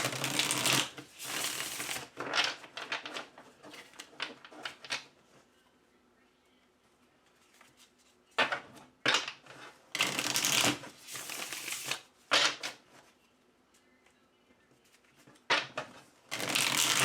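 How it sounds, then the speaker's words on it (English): Stone Marseille tarot cards being shuffled by hand in several bursts of riffling and rustling, close and crisp, with quiet pauses between shuffles. "This shuffles so well."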